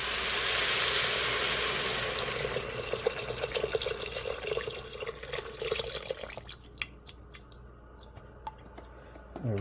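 Beef broth poured into a soup pot for cabbage and potato soup, a loud splashing gush at first that tapers into drips and soft sloshing, then light clinks and scraping near the end.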